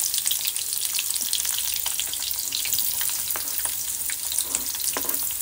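Chopped onion and carrot fry in hot oil with a close, steady crackling sizzle, punctuated by brief spatters and light stirring scrapes, and no voices.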